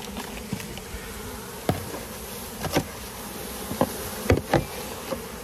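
Honeybees buzz steadily in a dense, droning swarm, with a few louder passes and soft knocks rising above the hum.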